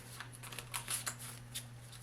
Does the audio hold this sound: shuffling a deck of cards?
yes